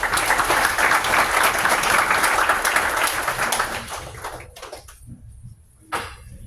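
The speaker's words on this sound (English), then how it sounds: "Let's give one more round of applause to Greg." An audience at a tech demo night claps loudly for a presenter, a full burst of applause that thins and fades toward the end, with a last few scattered claps.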